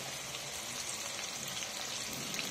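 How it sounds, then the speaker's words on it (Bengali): Onions tipped into hot oil with already browned garlic while cooking a large batch of Bengali chicken kosha, a steady, fairly quiet crackling sizzle throughout with no voices. "এবার পেঁয়াজ দিয়ে দেব।"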